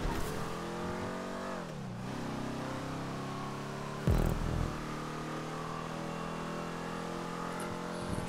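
A Blazer Aqua amphibious vehicle in GTA 5 drives steadily with a continuous engine drone whose pitch dips and recovers, then a short rough thump and rumble midway before the steady hum resumes.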